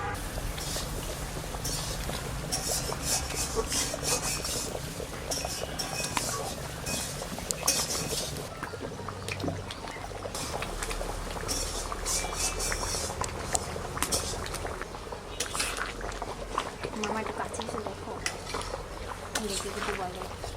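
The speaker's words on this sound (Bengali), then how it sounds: "ঝোলটা অনেকটা ফুটে গেছে এবার আমি মাছগুলো দিয়ে দেবো" Katla fish curry gravy simmering in a pan, soft bubbling and frequent clinks of a metal spoon against the pan, close and continuous while a voice talks over it.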